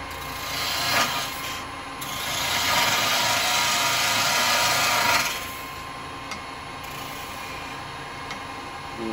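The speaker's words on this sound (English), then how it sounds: "we're going to go with a spindle gouge at first." Sycamore wood turning on a lathe under a spindle gouge gives a steady rough scraping hiss with a louder, denser cutting pass in the middle, close and continuous, with no voices.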